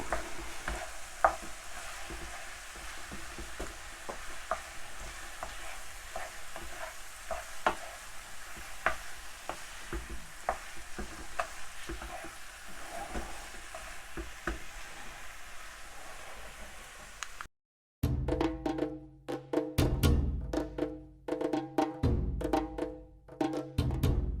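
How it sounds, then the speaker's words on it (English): Minced beef for potato pancakes is stirred and scraped around a hot pan, giving a steady, close sizzle with repeated utensil scrapes and no talking, before a sudden cut to louder, different sounds near the end. "So I mix all of that beef up."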